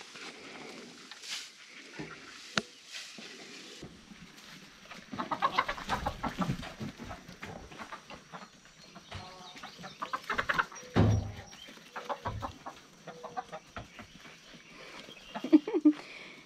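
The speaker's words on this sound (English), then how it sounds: "They're chasing chickens." Chickens cluck and squawk intermittently nearby as they are chased on a homestead, with scattered rustling and faint sounds in the background.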